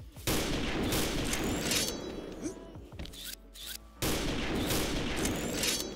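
Level 10 sniper rifle shots in the online shooter XSHOT, heard as repeated sharp gunfire bursts in a busy firefight, with a brief quieter gap in the middle before the shooting resumes.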